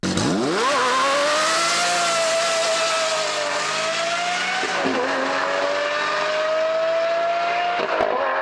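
A Lamborghini Murcielago's mid-mounted engine and unusual exhaust roar loudly and continuously, the revs surging up at the start and holding high with short dips at gear changes.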